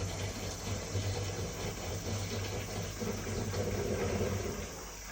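A Japanese washing machine drains dirty water, giving a steady low pump hum with a faint watery rush underneath, continuous and even throughout.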